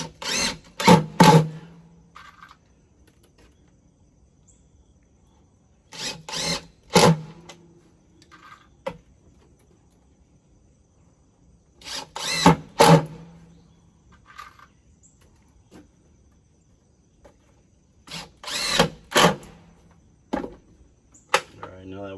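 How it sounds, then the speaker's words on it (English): A power drill drives 2-inch screws into a wooden desk in short bursts, each a loud whir of a second or two, repeated in clusters with quiet gaps between them. "You want to make sure you don't sink the 2-inch screws too far in"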